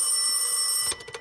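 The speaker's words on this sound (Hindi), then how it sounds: "जाके फोन उठाओ, एजेंसी वालों का ही कॉल होगा" A telephone ringing, a loud bright electric bell trill held for most of a second, then cut off into a few faint knocks.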